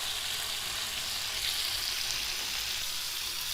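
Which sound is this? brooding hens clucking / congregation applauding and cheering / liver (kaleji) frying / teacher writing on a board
liver (kaleji) frying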